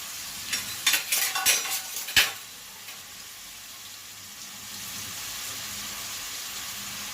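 Onion and tomato drop into hot oil in a pan on a stove, with a burst of clatter and sharp crackles at first, then a softer, steady sizzle that holds faintly with no talk.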